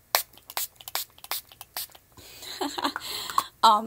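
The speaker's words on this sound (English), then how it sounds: "I'm gonna spray my face." A few quick hissing bursts of makeup setting spray onto a face close by, followed by soft misting sounds and a brief rattle near the end.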